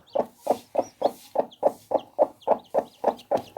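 A hen clucks beside her chicks in a steady run of about a dozen short, evenly spaced clucks, close and clear, with little else in the background.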